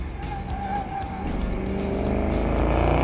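A car engine revving hard and climbing in pitch as it accelerates on a track, with a brief tire squeal, loud and close.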